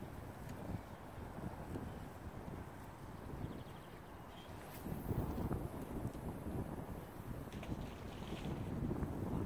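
Strong wind buffets the microphone at an outdoor fishing competition in Wrocław, a constant rushing roar with gusts that swell and ease, with no talk heard.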